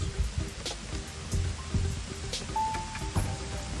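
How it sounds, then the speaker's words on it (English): Rain falling on a muddy golf course, a close, steady patter of drops with scattered louder splats and drips, no talking. "Here's a little rain ASMR."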